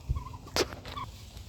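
A gold lace Wyandotte mix chicken vocalizes in a backyard flock, a few short clucks and a brief squawk, fairly faint and close, with scattered soft background noises and no speech.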